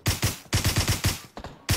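M16 rifle fire in PUBG Mobile comes as loud, close single shots in a quick uneven rhythm, about ten reports with short pauses between bursts.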